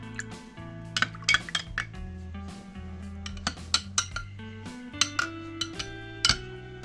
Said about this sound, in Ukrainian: Накриваю кришкою і закутую добре рушником